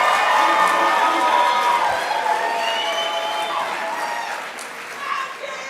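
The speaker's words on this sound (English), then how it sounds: "One more big round of applause for your Spring 2024 graduates." A crowd at a spring nursing pinning ceremony applauds and cheers its graduates, loud and close, with whoops and voices over the clapping before it gradually tapers.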